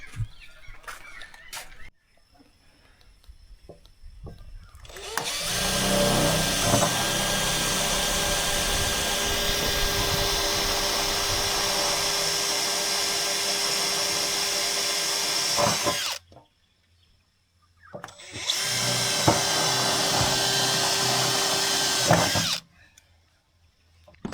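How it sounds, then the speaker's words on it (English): A power drill whines loudly through a stack of seven metal sheets in two long bursts, the first lasting about ten seconds, the second shorter, with brief quiet gaps and faint background noise. "brave enough to drill 6 holes in 7 sheets at once,"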